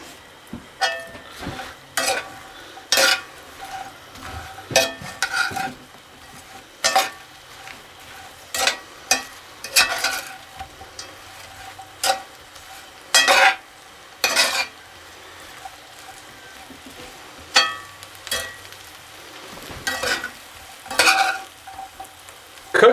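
Brussels sprouts and bacon fry in a pan as a steady sizzle, broken by repeated scraping and clattering stirs of a utensil against the metal at irregular intervals, close by with no talking.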